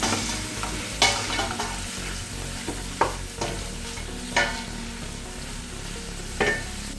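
Onions sauté in a pan for a soy biryani, with a steady sizzle broken by several distinct scrapes and clatters of a spoon against the pan at irregular intervals, close and clear.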